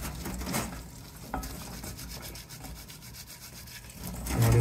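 Fresh edamame pods rubbed gently by hand, giving a continuous soft scratchy rustle with steady brushing strokes close up, no voices.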